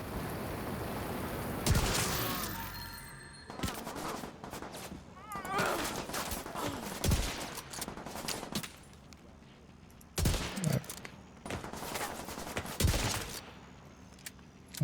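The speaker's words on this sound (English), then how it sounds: "Could you stop shooting at me?" Video game gunfire crackles in bursts of rapid shots and sharp single cracks, loud and close, separated by quieter stretches of background game sound.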